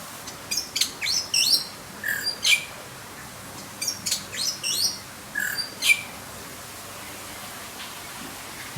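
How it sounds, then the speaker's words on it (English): Many kinds of birds call inside a warm, humid tropical aviary on the Isle of Wight: bursts of sharp chirps and squawks for about six seconds, then only a steady hiss of background noise. "There's an amazing variety of birds."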